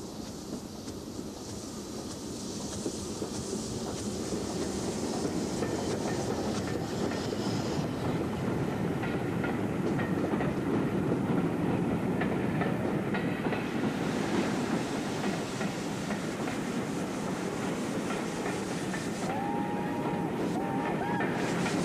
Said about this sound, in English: A K1 works a fitted freight passing Britannia John Milton.